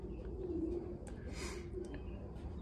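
Racing pigeon cooing softly in a loft, a low steady murmur under faint background noise with a few scattered higher chirps.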